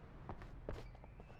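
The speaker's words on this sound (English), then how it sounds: "Okay, I'm hearing footsteps." Footsteps in the horror video game Alan Wake: a handful of soft, muffled steps at a steady walking pace, moderately close, over a low ambient drone with no talk.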